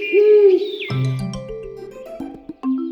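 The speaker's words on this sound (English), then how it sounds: "The owl." An owl in a children's animal-sounds cartoon set on a mountain gives a tonal hooting call, fairly loud and near, followed by brief musical chimes and effects.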